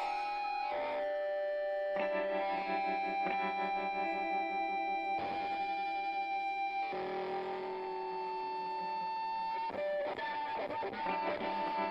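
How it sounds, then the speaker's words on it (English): Heavily distorted electric guitar on an album sustains with ringing feedback tones, layered and effect-laden, continuous and fairly loud without any voices. "Nice use of distortion feedback."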